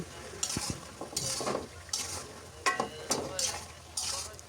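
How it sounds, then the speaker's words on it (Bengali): Beans, eggplant and potatoes stirred and frying in a pan with a large fish head and winter vegetables, several scraping stirs with a light sizzle in bursts, close by. "আমরা সবাই জানি ফুলকপি রান্না হতে একটু সময় লাগে সিমের চাইতে এই তো এখন দিয়ে দিলাম সিম বেগুন আলু"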